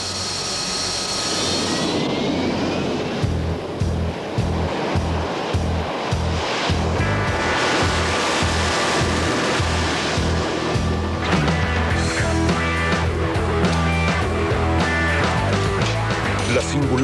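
Jet engine roar from a Harrier jump jet, a steady loud broadband rumble with pulsing low thumps and rising whine layered over what sounds like wind or surf noise throughout.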